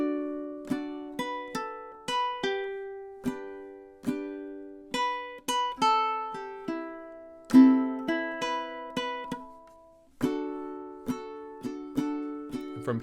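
A ukulele plucks the last run of melody A from a song: single notes and chords ring out close and clear at an even, unhurried pace, each one decaying before the next, with no voices.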